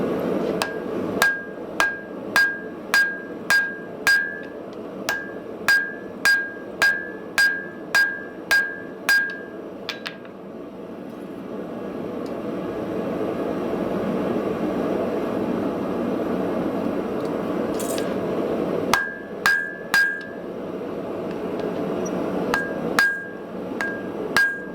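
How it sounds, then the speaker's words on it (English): Hammer blows forging vintage spring steel on an anvil ring out in a close, evenly paced run of sharp metallic strikes, pausing mid-way over a low hum before a few more bursts of strikes return. "So I'm going to forge these down to about 35 by 35"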